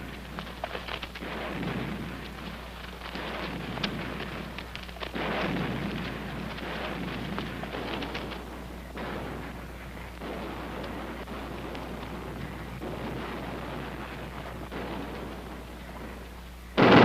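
Distant Korean War artillery fire thunders almost continuously, a dense, booming low rumble rolling on for well over fifteen seconds with no voices.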